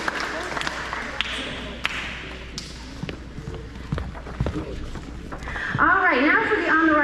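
Applause from an audience at an elementary school awards ceremony for grades 3 to 5: steady, moderately loud clapping from many hands that swells toward the end, with voices mixed in.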